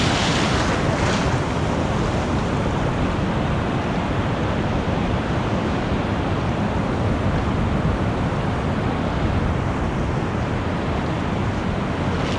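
Rough surf of the Pacific Ocean pounds a beach in a steady, loud, continuous roar of breaking waves, with heavy wind buffeting the microphone throughout and no voices.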